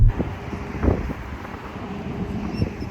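Steady low rumbling buffets of wind batter the microphone, with uneven gusty thumps and no voices.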